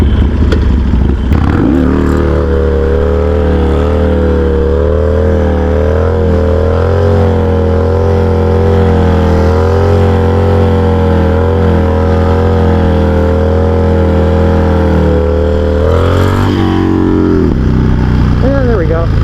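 A Harley-Davidson Sportster motorcycle engine revs loud and close during a wheelie attempt, a sustained rumbling drone that rises and dips in pitch before dropping off near the end.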